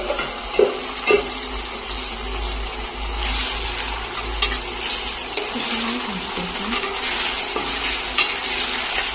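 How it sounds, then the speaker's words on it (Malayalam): Sliced potatoes frying with onion in a pan are stirred, producing a loud, continuous sizzle with scraping strokes and a few sharper knocks of the utensil against the pan. "ഉരുളങ്കിഴങ്ങ് ചെറുതായിട്ട് ഇളക്കി കൊടുക്കണം."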